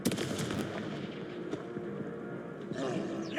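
Confringo spell blast during Hogwarts Legacy combat, a burst of explosive crackle and rumble amid a busy, noisy fight mix, with a fresh whooshing hit near the end.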